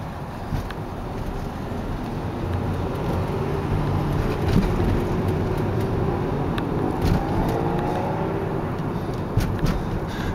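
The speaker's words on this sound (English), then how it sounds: "Yeah, traffic's getting pretty heavy right now." Heavy traffic flows along Route 110 as a continuous broad roar of passing vehicles, steady and fairly loud, with swells as cars go by and no talk.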